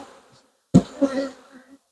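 Bees buzz at a large beehive as a new swarm is settled in, a close droning hum rising suddenly after a quiet start and wavering for about a second before fading.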